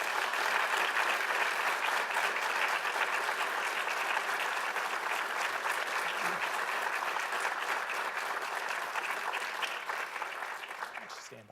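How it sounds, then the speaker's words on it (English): An audience at a US Army War College Black History Month observance applauds the student awardees, a dense, even wash of clapping held steady at moderate volume for about eleven seconds before it trails off. "Please give all our awardees a round of applause."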